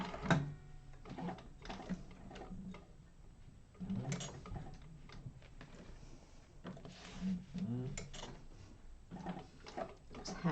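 Sewing machine fitted with a walking foot stitching through vinyl, with a scrap of vinyl behind, giving repeated mechanical ticking and clattering bursts close up, broken by short pauses.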